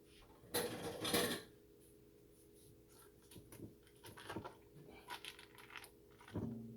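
Metal kitchen utensils clatter and clink during a rummage for a spatula while making cream cheese icing, in a few bursts of jangling separated by quieter moments, ending with a final rattle.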